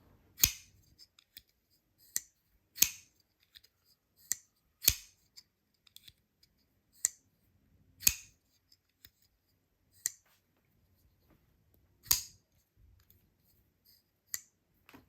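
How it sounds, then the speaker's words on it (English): A Cheburkov Small Strizh folding knife is flicked open and closed repeatedly, producing sharp, crisp clicks and snappy thwacks at irregular intervals with quiet gaps between them, close to the microphone and with no talking. "It's not like uber loud, uber acoustic, but has a very nice thwack, very nice thud on the out."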